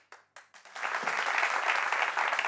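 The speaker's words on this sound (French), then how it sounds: "On l'applaudit pendant qu'il arrive." Applause from a television studio audience as a participant in a red t-shirt walks up, starting with a few separate claps and quickly swelling into steady, dense clapping that carries to the end.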